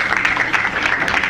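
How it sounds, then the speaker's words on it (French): Audience applause at a Halloween stage show, a short burst of steady clapping from a crowd, fairly loud and even, with no talk over it. "on applaudit aussi"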